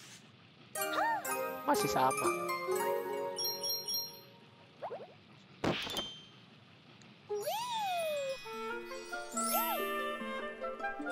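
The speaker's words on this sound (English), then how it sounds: "it's a hammer, but jeng jeng jeng jeng like a bell" A hammer in the Super Mario 3D World video game rings like a bell, bright tinkling and chiming tones in quick runs with a sharp metallic strike midway, fairly clear over game music, with brief speech.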